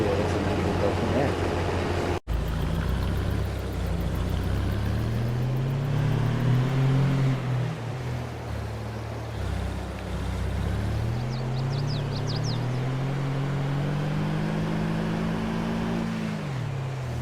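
Farm machinery drones through a harvest of fields in Farming Simulator 22, a loud, steady engine hum that rises and falls in pitch as the machines work, with a brief cut early on.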